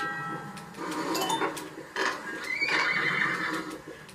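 A horse in the video game Crossy Road whinnies in loud, repeated bursts over hoof clip-clops, with no talk over it.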